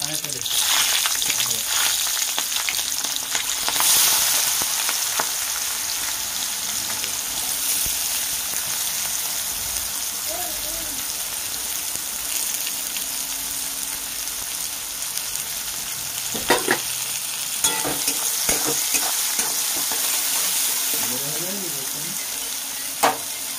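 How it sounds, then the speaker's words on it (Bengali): Onions fry in a pan, making a loud, continuous sizzle close up, with bursts of scraping and stirring now and then, and no speech. "পেঁয়াজটা হালকা ভাজা হয়ে গেছে"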